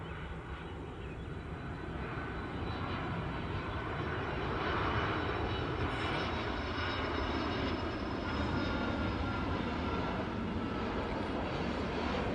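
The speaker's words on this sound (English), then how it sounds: "There's the plane." An airplane drones overhead as a steady, loud, broadband engine roar that holds for the whole stretch, with no other sounds standing out.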